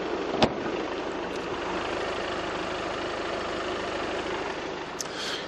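An Audi A3 hatchback's 2.0 TDI diesel engine idles steadily and quietly with the bonnet open, a smooth continuous hum with a single sharp tick near the start.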